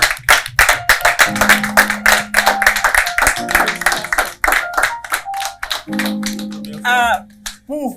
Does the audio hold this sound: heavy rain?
no